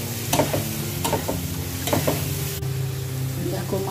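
Bhola fish curry frying in a pan with turmeric, cumin and chili paste, close sizzling under repeated scraping stirs and utensil clanks, loud and busy.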